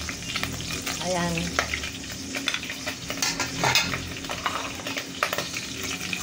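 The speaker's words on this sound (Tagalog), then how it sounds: "Magigisa na ako ng mga ricado." Aromatics such as ginger and tomato sizzle and fry in a pan for salmon belly sinigang, with continuous crackling and bursts of utensil scraping and stirring, while a voice speaks once briefly.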